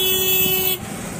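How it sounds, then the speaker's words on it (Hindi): A loud, steady truck horn blares for nearly a second, then cuts off, leaving the rumble of highway traffic behind it. "हॉर्न तो भैया इतनी देर तक बजा रहे थे"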